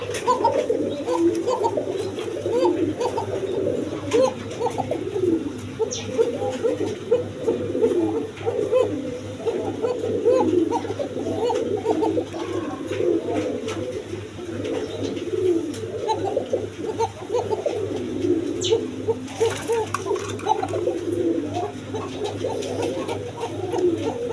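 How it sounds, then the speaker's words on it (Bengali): A pair of Koka pigeons and other caged birds coo continuously, a low burbling chorus with a steady hum beneath and little talk. "এখানে এক পেয়ার কোকা কবুতর আছে দেখেন"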